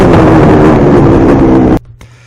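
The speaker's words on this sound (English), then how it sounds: "shows the bike wide open up until fifth gear" A Maico 700 dirt bike engine roars loud and close at wide open throttle, a harsh continuous blare that cuts off abruptly near the end, leaving a faint low hum.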